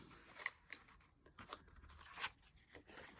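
A series of quick, crisp snips from scissors cutting through paper, close and fairly quiet, irregularly spaced over a few seconds.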